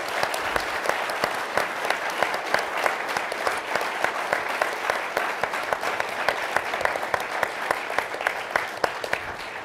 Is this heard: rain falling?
no